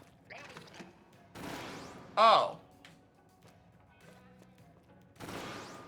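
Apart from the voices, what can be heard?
Trizooka special weapon firing and exploding in video game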